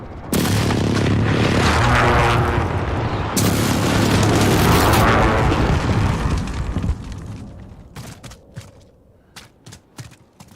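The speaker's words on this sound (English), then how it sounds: "Friendly precision airstrike on the way." Precision airstrike explosions in a video game: a loud run of heavy, rumbling blasts that overlap into a sustained roar, then fade into a few sharp, scattered bursts and crackles.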